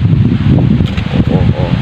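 Strong gusting wind buffets the microphone outdoors in stormy, typhoon-like weather on a provincial fishing trip, a loud continuous low roar with rustling surges and no talk.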